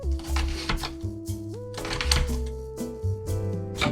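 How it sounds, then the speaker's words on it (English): A knife cuts up onion for whitefish ceviche, quick close chopping taps in an uneven rhythm over a faint background tone. "I'll cut up some onion."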